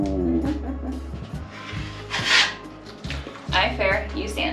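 Repeated rough rubbing and rasping strokes of hand sanding, uneven in rhythm, with a few louder scraping bursts close by.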